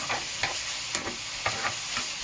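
Meat frying in a pan, a not especially fatty cut, with a steady sizzle and rhythmic pressing or scraping strokes about twice a second, close and fairly loud, no voices.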